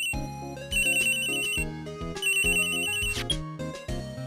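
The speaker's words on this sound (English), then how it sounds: "Oh, it's her phone." A phone ringtone chimes in the Ace Attorney video game, a bright repeating electronic melody in two bursts over game music, with no talking.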